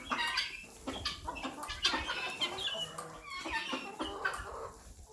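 A black Maran hen clucks repeatedly in short, uneven calls, close and moderately quiet, with other chicken sounds around her in a farmyard.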